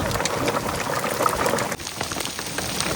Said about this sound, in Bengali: ঝাপা বৃষ্টি, ঝাপা।